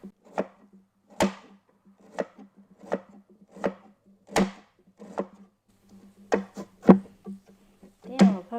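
A knife slices one small red onion thinly on a cutting board, about a dozen crisp, evenly spaced chops landing close and distinct, with quiet gaps between strokes.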